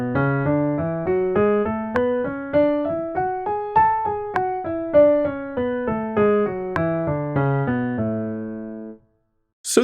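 Scale practice on a pitched instrument, a steady run of notes stepping up and back down, each attack sounding clearly and evenly, with stronger accents falling on every second beat, then a brief silence at the end.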